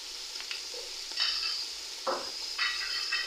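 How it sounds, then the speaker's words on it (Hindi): Chopped tomatoes and green chili fry in a pan with garlic-ginger paste for white chana pulao. A steady close sizzle runs throughout, broken by the brief scrape and rustle of stirring, with no voices. "उस वक्त तक इसकी भुनाई करनी है जब तक लहसुन और अदरक जो है वो इसके अंदर पक ना जाए"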